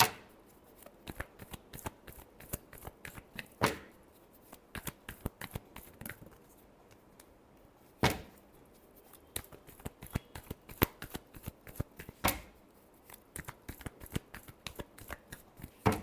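Tarot cards shuffled by hand during a reading, giving dense runs of quick crisp riffling flicks with a few sharper louder snaps, close and steady throughout with no one talking.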